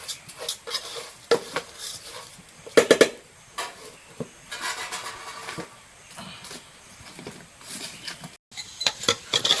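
Rice frying in a pan for liver khasta biryani, stirred with a metal spatula that scrapes and clinks against the pan in irregular bursts over a faint sizzle.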